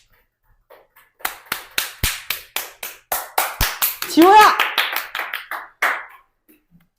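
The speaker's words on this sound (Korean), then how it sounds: "박수!" Students in a Korean history classroom clap loudly in a brisk, uneven run of sharp individual claps that builds and then thins out. A child calls out partway through.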